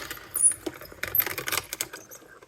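Die cutting machine cranks a stamped image through, giving a run of sparse, dry clicks and clacks that stop and start over a couple of seconds, close by and fairly quiet.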